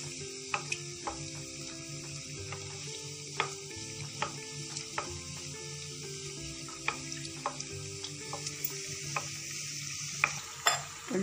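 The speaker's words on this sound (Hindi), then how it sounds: "इसे गोल्डन ब्राउन होने तक हमें फ्राई कर लेनी है" Namakpare dough snacks deep-frying in hot oil until golden brown, a steady bubbling sizzle with repeated light clicks and scrapes of stirring throughout, close and moderately loud with no talking.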